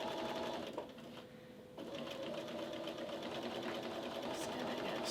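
A sewing machine stitches steadily during machine quilting, a fast even whirring hum that pauses briefly for a back tack before running on, close and moderately quiet.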